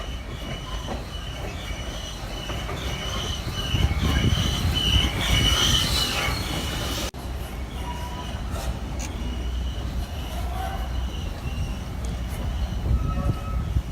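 A passenger train rolls past on a railroad, a steady loud rumble with squealing wheels and rail clatter, peaking about midway through before settling into a continuing rumble; no talking.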